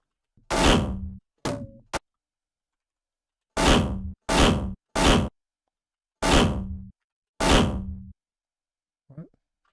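Short layered synthetic cybernetic sound effects, mechanical whooshes and thunks, fire in seven separate bursts with silent gaps between them, loud and close, ending in a faint small blip.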